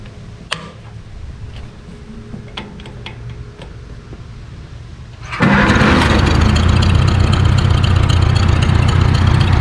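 A 1949 Farmall Cub tractor engine, freshly fitted with a rebuilt carburetor, ticks faintly at first, then suddenly roars up into a loud, steady, close running drone that holds to the end.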